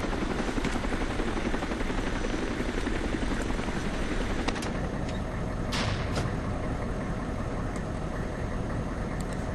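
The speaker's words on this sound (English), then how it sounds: "we'll stay here at the tower until the chopper lands safely" A helicopter lands nearby, its loud, steady rotor thump and engine roar filling the whole stretch without letup and without voices.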